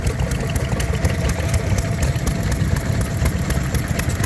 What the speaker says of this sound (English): There's another quite an early Lister D. It runs nice and quiet.